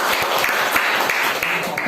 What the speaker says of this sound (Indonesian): Tepuk tangan dong membuat bapak ibu semua.